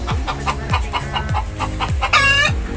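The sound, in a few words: hen clucking after laying an egg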